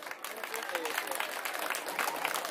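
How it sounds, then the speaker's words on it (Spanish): Outdoor crowd clapping at a village concert in Cuilco, Guatemala, as a regional music group is introduced; a busy patter of applause with voices and a few shouts mixed through it. "¡Fuertes los aplausos!"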